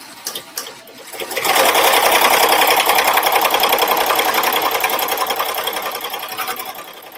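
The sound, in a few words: embroidery machine stitching a border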